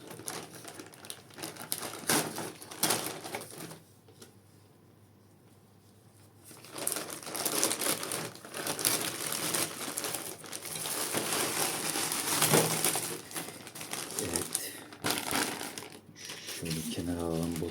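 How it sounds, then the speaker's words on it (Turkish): Crisp plastic packaging crinkles and rustles in irregular bursts as a parcel is opened up close, pausing briefly partway through, with someone speaking throughout. "Çok laf uzatmadan gerçek üçüncü paketimizi açmak istiyorum."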